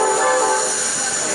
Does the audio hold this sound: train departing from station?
yes